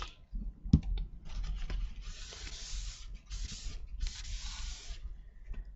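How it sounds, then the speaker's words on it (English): A spray bottle mists a craft table in a few short hissing bursts, close to the microphone, with small handling clicks and taps around them and no talking. "Just spray my table."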